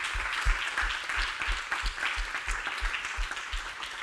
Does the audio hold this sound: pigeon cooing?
no